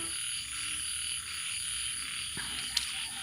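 Frogs croaking steadily in a frog pond flooded by storm and heavy rain, a close chorus heard alone against a soft background hiss, with one brief sharp knock near the end.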